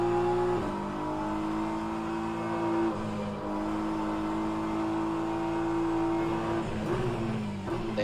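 A Porsche race car's engine drones steadily in rFactor 2 during an online endurance race at Bahrain, holding a sustained tone with slight pitch shifts and a brief dip near the end, loud and continuous with no talk.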